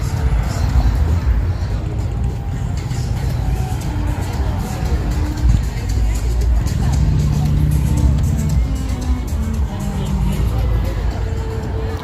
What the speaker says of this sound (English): Look at the traffic to contend with.